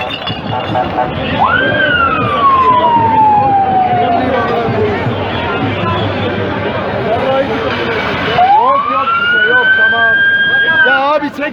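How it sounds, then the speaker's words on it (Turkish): An ambulance siren wails loudly nearby outside a football derby crowd scene, two long rising-and-falling sweeps with crowd babble and shouting voices underneath. "Ambulansa git ambulans geldi."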